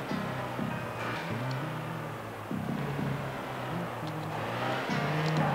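A Vauxhall Vectra engine in the PS2 driving game The Getaway hums low and steady, rising and falling in gentle revving swells with faint road noise underneath.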